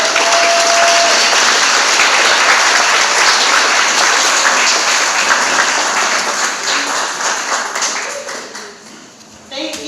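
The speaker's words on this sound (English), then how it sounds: "Everybody, please start clapping right now for Bea McFarland." A live audience claps loudly and continuously for a comedian taking the stage, a dense sustained roar of applause that thins and fades toward the end.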